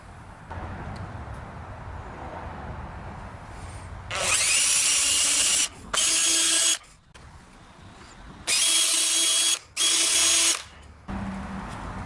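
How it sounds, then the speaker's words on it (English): Power drill countersinking screw holes in wood for a concrete Christmas stocking holder mold, four loud short whirring bursts in two pairs, with a lower background hum in between. "these marks will be where you will countersink a hole for your screws"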